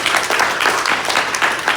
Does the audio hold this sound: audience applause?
yes